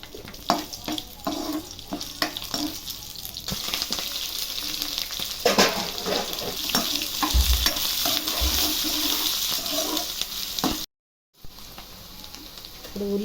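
Chopped onions fry in hot oil with cloves, cardamom and bay leaves for Karnataka vangi bath, giving a steady close sizzle broken by scraping stir strokes and a brief dropout near the end, with no talking.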